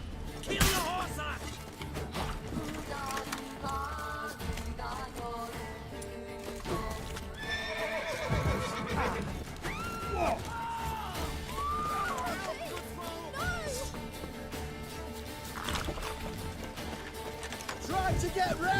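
Horses neigh and whinny repeatedly while hooves clip-clop during a hunt, with music and voices mixed in throughout; several loud whinnies stand out mid-way.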